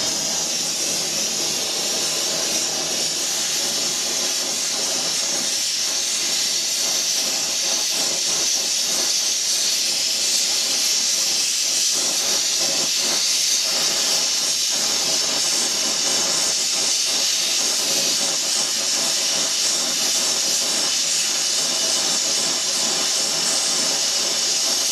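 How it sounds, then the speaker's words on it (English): A torch hisses steadily during silver soldering of a brass olive onto an oil pipe, a constant bright rushing tone close by with faint background clatter and no speech. "Next one's just to simply solder this olive onto the end of the pipe."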